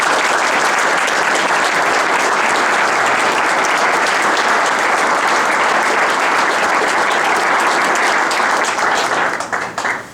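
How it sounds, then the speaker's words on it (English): An audience at a faith-based community summit in Gilbert gives a group a round of applause, sustained, dense clapping from many hands that fades out at the very end. "can you give this group a nice round of applause?"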